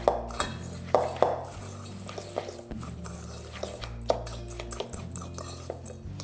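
A fork scrapes and clinks against a bowl, mixing melted butter into a cinnamon crumb base for a no-bake pumpkin cheesecake crust, with irregular light taps close up over steady background music.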